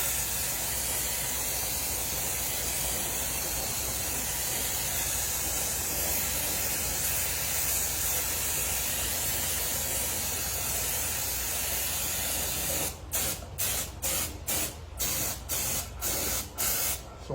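Liquid RC mask sprays onto model car bodies in a long steady airbrush-like hiss, which then breaks into a quick series of short, rhythmic bursts near the end, close and unaccompanied by talk.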